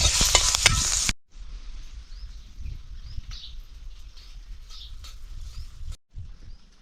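Green chilies roast in a pan with a brief loud burst of crackle at first, then a quieter, patchy sizzle and soft stirring scrapes that stop in a short gap before resuming.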